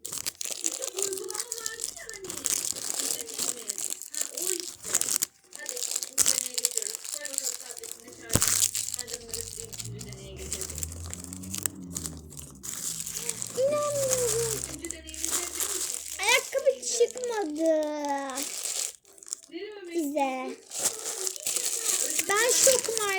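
Plastic packaging crinkles and crackles almost continuously while a LOL doll is unboxed, with someone talking over it throughout.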